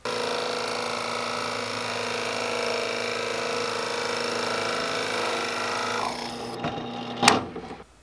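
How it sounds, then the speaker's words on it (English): A power drill whines steadily as it bores out wood for a handmade fishing reel for several seconds, then winds down with a few clattering knocks. "once I drill that wood out"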